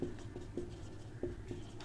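Pen or pencil writing a math formula by hand on paper, soft close scratching strokes with a few sharper taps, quiet and alone.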